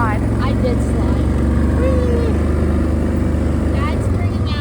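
A farm tractor hauling hay bales out to cows on a winter morning, its engine giving a loud, steady low drone throughout, with people talking over it.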